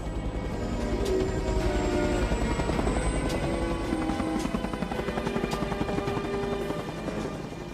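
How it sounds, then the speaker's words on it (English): A military helicopter roars steadily close by as it takes off at night, its rotor chop and whining turbine holding loud and constant throughout with no voices. "wait till the helicopter takes off, wait till the noise dies down"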